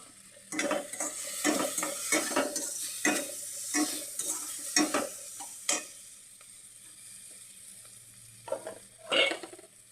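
Capsicum bharta being stirred with spices, turmeric and chilli in a hot pan, with repeated scraping stirs and clanks of the spoon over a soft sizzle, close and uneven in rhythm with a pause before a final burst.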